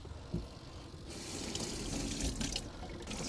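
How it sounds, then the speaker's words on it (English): Water from a tap running into a sink while hands are washed in a van, a close steady splashing rush that starts after a short quiet pause. "Now I gotta wash my hands"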